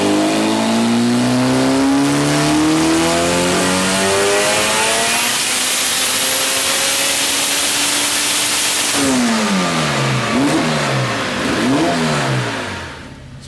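A tuned Honda K20 engine in an EG hatch pulls hard on a dyno, its note climbing steadily through the revs for about nine seconds, then dropping and blipping up and down several times, loud and close throughout with no talking.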